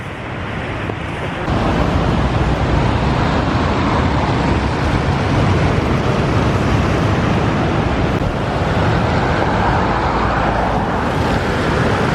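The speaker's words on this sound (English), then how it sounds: "Splashing up on the sea wall." Continuous heavy roar of surf and wind at Sandsend on the North Yorkshire coast, loud and broadband, with surging waves crashing against the sea wall close by and constant buffeting noise.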